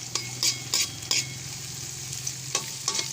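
Onions frying in a pan for ginataang manok with papaya, a constant sizzle under sharp, repeated stirring clinks and scrapes of a utensil against the pan at an uneven rhythm.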